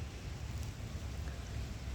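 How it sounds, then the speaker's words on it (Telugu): Light rain falls outdoors as a steady, soft, low rumbling hiss with no distinct drops standing out, faint and unbroken throughout, with no voices. "చూడండి వర్షం వస్తుంది మనకి, ఈ ప్రూఫ్ ఇదిగో లైట్గా వర్షం"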